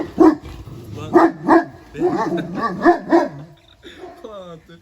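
A large shepherd dog barks several times in sharp bursts, close and loud, with a few yips and a whimper, while a person talks over and between the barks.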